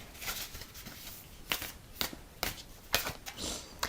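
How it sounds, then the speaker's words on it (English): Tarot cards shuffled and pulled from a deck, several crisp riffling bursts and quick snaps spaced unevenly, close and fairly quiet with no talking. "let's pull more cards"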